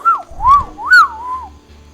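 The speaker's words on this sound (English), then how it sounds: "I can't whistle very hard, but I can whistle" A person whistling a short, wavering tune close up, three or four gliding notes rising and falling in quick succession, clear and fairly loud against a quiet background with a little low rumble.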